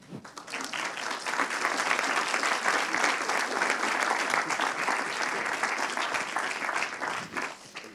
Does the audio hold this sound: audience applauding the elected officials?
yes